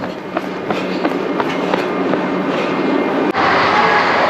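A train runs on a Swiss-French rail line with a loud, close rumble and rhythmic clicking of wheels over rail joints, then a sudden shift to a brighter, rushing roar near the end.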